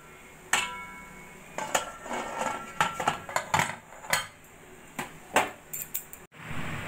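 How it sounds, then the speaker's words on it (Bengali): Metallic clinks and clatter as a lid is set on a steamer holding semolina idli bowls, a string of sharp, close knocks and rattles over several seconds. "এবার আমি ঢাকাটা দিয়ে 20 মিনিট স্টিম করে নেব।"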